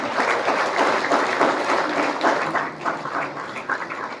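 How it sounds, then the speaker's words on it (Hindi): Audience at a college seminar breaking into loud applause as guests take the stage, a thick burst of clapping that gradually thins into scattered claps. "मंच में जोरदार तालियां गूंजती रहनी चाहिए।"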